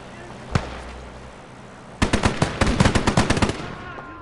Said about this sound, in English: That was the sound of an anti-tank rifle.